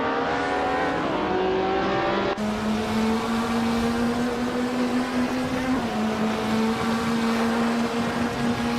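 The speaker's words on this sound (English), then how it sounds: "Belthane the Beast is driving a Group 5 Lancia Stratos Turbo" Loud, sustained drone of a Group 5 Lancia Stratos Turbo racing engine in a video game, holding a high steady pitch with brief shifts and small pitch steps, close and continuous throughout with no talk.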